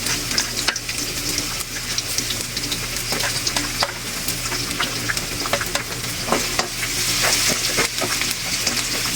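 Garlic and onion sautéing in oil give a busy, close crackling sizzle that runs throughout, broken by frequent sharp scrapes and clicks of a utensil stirring the pan.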